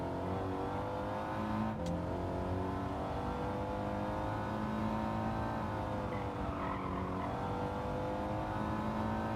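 A BMW M4 on track in Gran Turismo 7, with a steady engine drone that swells slightly as it accelerates and holds close and constant throughout.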